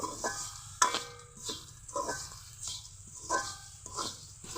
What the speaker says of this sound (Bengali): নেড়ে নেড়ে কুড়টা রেডি করে নিব